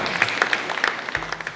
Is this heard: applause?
yes